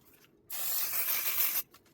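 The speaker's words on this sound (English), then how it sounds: "So I'm going to spray a little bit of basting spray." A single continuous hiss of basting spray from an aerosol can onto quilting fabric for a cuddle kit, close up, lasting about a second between quiet moments.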